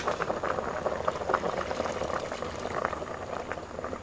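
A pot of water used for blanching carp for laab boils vigorously, with a dense, steady bubbling and churning that stays close and fairly loud for the whole stretch, with no voices.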